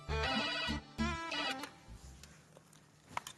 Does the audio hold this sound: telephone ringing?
yes